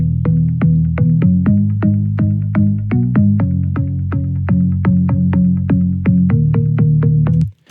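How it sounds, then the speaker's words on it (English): Deep house synth bass pluck built in Serum from square and sine oscillators with an opening filter envelope, repeating in a steady rhythmic pattern of short, punchy low notes, loud and upfront, ending abruptly. "on the filter that's opening up to sound like a pluck"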